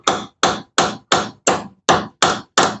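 Eight sharp, evenly spaced hammer blows drive nails, each a loud crisp strike ringing briefly before the next, steady and close with no talking.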